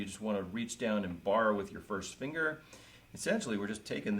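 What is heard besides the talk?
No everyday noise stands out behind the speech.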